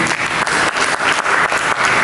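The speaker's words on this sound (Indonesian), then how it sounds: "Berikan tepuk tangan bagi Yesus" A Pentecostal church congregation claps for Jesus, loud dense applause that pulses in rhythmic waves, almost like a beat, across the whole stretch.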